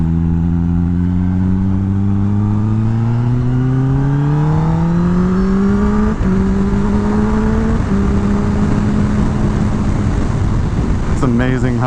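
A 2021 Kawasaki ZX-10R motorcycle accelerates hard through the gears, its engine note climbing steadily with brief dips at each upshift, loud and close with continuous wind rush.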